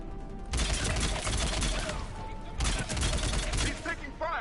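Bursts of automatic gunfire from a Mass Effect 3 firefight, two long loud volleys of rapid shots with brief gaps, dense and close, with faint game voices mixed underneath.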